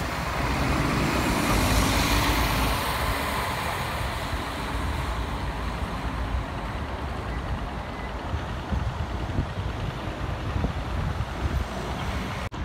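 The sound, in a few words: city bus line 55 driving off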